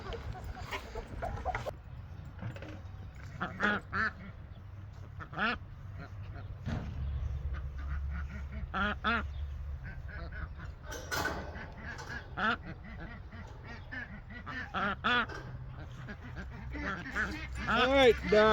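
Ducks on a farm give repeated quacks and honking calls in short bursts, fairly near, mixed with chicken clucks and a person speaking.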